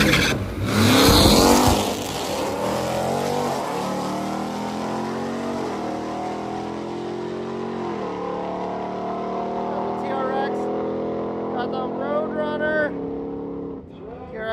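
Drag racing cars making test passes at a drag-and-drive event, one engine roaring loud and close, then holding a long, steady, droning pull as it goes off down the strip and fades toward the end, with a voice over it.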